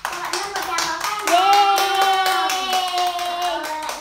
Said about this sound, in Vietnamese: Cho bạn Ngân một tràng pháo tay